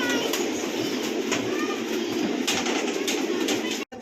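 Pigeons handled at close range before a raffle give soft cooing and fluttering over a steady rushing background, with people talking nearby.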